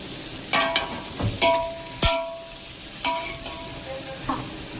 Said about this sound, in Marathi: यामध्ये मी टाकते कांदा ऍड करते. शिमला मिर्च पण ह्याच्यासोबतच ऍड करते, आणि ह्याला चांगलं सॉते करून घ्यायचं